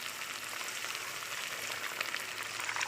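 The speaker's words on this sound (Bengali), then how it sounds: "এবার আমি দিয়ে দেবো জল," Pointed gourd cooks in hot oil as water goes in, producing a continuous, dense sizzle that stays close and even, slightly swelling toward the end, with no one speaking.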